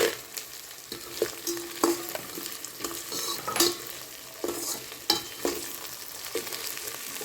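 Cashew nuts frying in a pan give a soft, close sizzle broken by scattered sharp taps and scrapes of a spoon stirring, fairly quiet with no voices.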